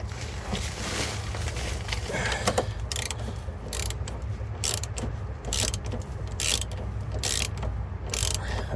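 A bolt being threaded into an aluminum diesel heater during a rebuild, with repeated ratcheting and clicking mechanical sounds up close, a steady rhythm of small clicks over faint background noise.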